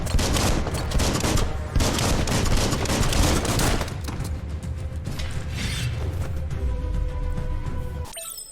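Gunfire in the video game Biomutant as the player blasts an enemy, with dense continuous rapid shots forming a loud, sustained burst that fades slightly before cutting off near the end.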